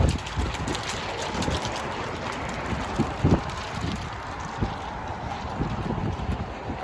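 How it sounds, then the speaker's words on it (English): Steady wind roaring and buffeting a microphone outdoors, with occasional gusty thumps, constant throughout. "it's getting really windy"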